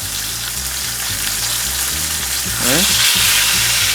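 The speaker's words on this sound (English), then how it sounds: "And because I had the skillet on a really, really high heat, these should sear pretty quickly." Australian wagyu picanha sears in a very hot skillet with a loud continuous sizzle that swells louder after a few seconds, a low hum and a brief spoken word underneath.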